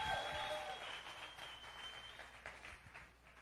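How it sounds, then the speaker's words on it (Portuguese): A church congregation applauding during a sermon, a soft, dense patter of many hands that fades slightly over a few seconds, heard at a distance and fairly quiet, with a faint voice mixed in. "Aplaude Jesus, é só para a gente quebrar o gelo."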